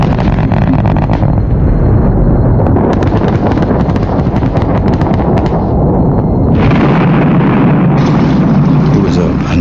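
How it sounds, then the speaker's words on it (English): Airstrike explosions at Tora Bora: heavy booming blasts and rumbling detonations with wind buffeting the microphone, loud and continuous, mixed with a voice speaking over them. "call in the first 56 hours of airstrikes against the mother lode of al-Qaeda down below them"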